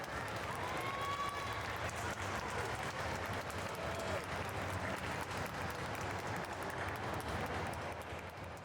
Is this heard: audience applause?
yes